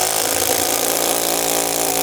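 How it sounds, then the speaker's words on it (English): An impact driver, a compact subcompact tool, spinning a 3-inch drywall screw into wood, giving a loud, continuous, steady motor whine with rapid hammering throughout, heard up close. "Takes a lot of torque to drive these without stripping them out, spinning them into 3 inches of wood."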